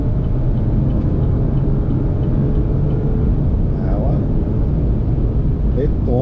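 A 2023 Chevrolet Montana double-cab pickup accelerates hard from 80 to 120 km/h on a rural back road, a loud, sustained engine roar and road rumble from inside the cabin with no break throughout.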